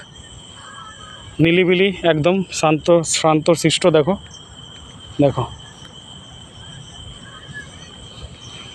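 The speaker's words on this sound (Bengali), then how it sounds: "এ দেখো ঝিঝি পোকার ডাক" Steady high-pitched cricket chirring runs throughout at night in Baansera Park, Sarai Kale Khan, with a person speaking loudly over it for a few seconds.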